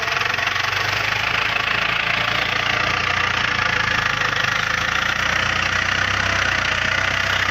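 An old second-hand Yanmar tractor, about twenty years old, idles nearby with a steady, loud diesel chug and knocking rattle that holds unchanged throughout, with no voices.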